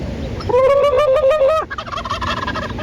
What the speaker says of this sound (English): He's making some noise. Gobble, gobble.